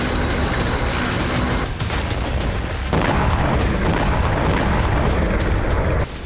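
Heavy booms and rumbling blasts from Israeli missile and tank strikes on Rafah, sharp loud impacts breaking through a continuous roar, with distinct jolts partway through and near the end.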